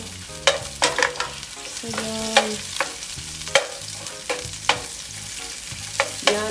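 Pure beef sausage sizzles in a pan during a bitter gourd sauté, with repeated sharp clinks and scrapes of a utensil stirring over a constant frying hiss, and a brief voice.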